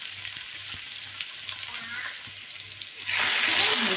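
Ginger garlic paste frying in egg masala: a steady crackling sizzle with soft stirring knocks, jumping to a louder, denser hiss near the end.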